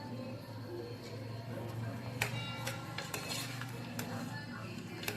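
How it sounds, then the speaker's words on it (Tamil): A spoon clinks and scrapes in a pan while masala for chicken gravy is stirred, with irregular sharp taps over a steady background hum. "நல்லா கிண்டி விட்டுக்கோங்க வரணும் ஃபுல்லாக கிண்டி விடுங்க மசாலா நல்லா மிக்ஸ் ஆகிடும்"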